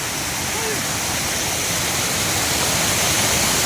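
Loud, constant rushing roar of lake water flowing fast after heavy night rain, filling the whole clip steadily, with a voice faintly talking underneath.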